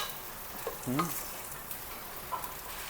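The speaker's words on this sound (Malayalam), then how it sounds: "ഇത് വീണ്ടും ഇളക്കി കൊടുക്കുക." Food fries in a pan with a steady close sizzle while a utensil stirs it, giving brief scraping strokes and a light clink against the pan.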